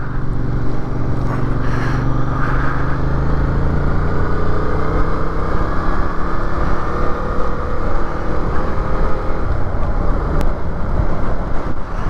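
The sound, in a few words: Yamaha MT-07 motorcycle riding on road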